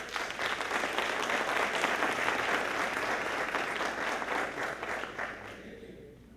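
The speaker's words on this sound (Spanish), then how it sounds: "Palmas, por favor." Steady applause from an audience at a talk fills the room, dense and sustained before thinning and fading out near the end.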